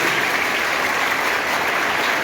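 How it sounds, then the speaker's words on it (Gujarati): An audience at a state mathematics festival gives steady, continuous applause welcoming dignitaries onto the stage, a dense even wash of clapping. "તાળીઓથી બધા મહાનુભાવોનું આપણે સ્વાગત કરીએ"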